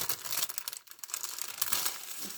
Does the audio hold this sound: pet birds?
no